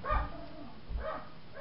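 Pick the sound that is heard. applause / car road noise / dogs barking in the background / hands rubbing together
dogs barking in the background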